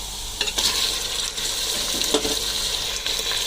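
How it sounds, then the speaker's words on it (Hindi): Mutton pieces go into a hot pan over high flame with pinkish onions and start frying: a continuous hissing sizzle broken by a few louder clattering bursts as the meat lands and is stirred, with no talking. "अभी इसमें मटन ऐड कर लें।"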